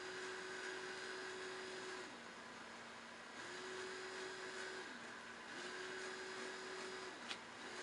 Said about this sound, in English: Get more speed and power going to the motor.